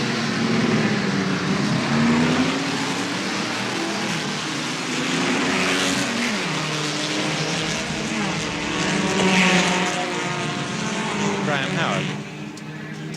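1972 series production touring cars (Chrysler Chargers, Holden XU1s, Ford GTHOs) racing at Warwick Farm, a sustained droning roar of engines with shifting pitch as cars pass, loud and continuous, with a commentator talking over it.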